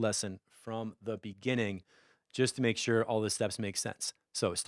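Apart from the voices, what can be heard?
No everyday noises stand out.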